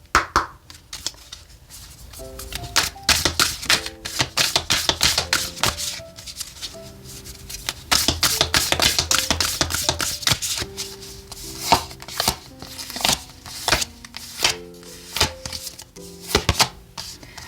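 Oracle cards are shuffled in quick, rhythmic bursts of riffling and slapping, close and crisp, over soft background music.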